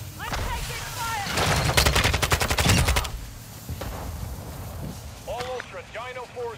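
Video game gunfire comes as a loud burst of rapid automatic shots lasting a couple of seconds, then scattered single shots, with radio-style game voices and speech mixed in around it.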